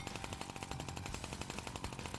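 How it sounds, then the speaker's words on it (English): Suppressed pistol revolver firing in a video game, a fast, steady series of muffled shots packed into about two seconds, fairly quiet and heard on its own. "suppressed pistol revolver."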